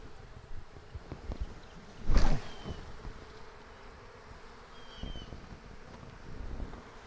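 A steady hum of honey bees buzzing surrounds a late-September hive inspection, with occasional louder bursts as insects pass close, and a sharp knock partway through.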